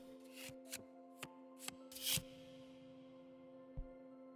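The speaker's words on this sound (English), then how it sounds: "Focus on what inspired you to support us while I shuffle my deck." A witch's card deck is shuffled in a video game, a few quick papery riffles and taps in an uneven burst over a steady musical drone, faint and close with no speech.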